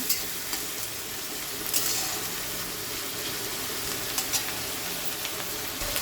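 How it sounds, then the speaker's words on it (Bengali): Onions frying in a pan give a steady, close sizzle, broken now and then by soft stirring scrapes, with no voices. "পেঁয়াজটা একদম লাল লাল করে ভেজে নেবো।"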